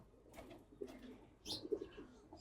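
Racing Giribaz pigeons let out of a cage, giving soft cooing calls and a few brief flutters, faint and intermittent against a quiet background.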